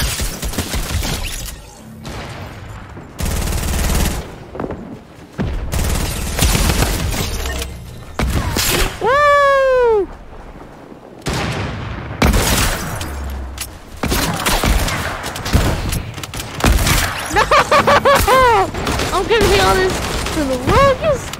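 Gunfire in the video game Fortnite: loud, repeated bursts of shots and booms in quick volleys, with whistling, sweeping effects and mechanical clatter between them, while a person talks.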